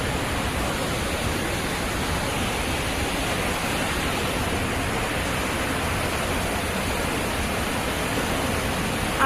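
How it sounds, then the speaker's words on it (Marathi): Athirapally waterfall in Kerala roars as a steady, dense, unbroken rush of falling water, loud and close, with nothing else standing out. "त्यातलंच एक आहे अथरापल्ली वॉटरफॉल."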